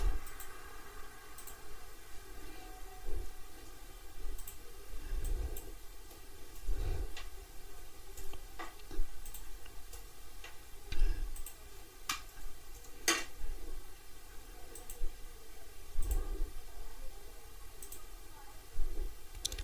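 Computer mouse clicks while working in Oracle Financial Planning software: sparse, sharp, irregular clicks spread across the stretch over a low steady background hum.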